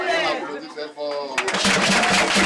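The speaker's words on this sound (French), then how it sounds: "On applaudit très fort." Dense, loud applause at a requiem mass for a mother, starting abruptly after a brief stretch of voices and rolling on steadily to the end.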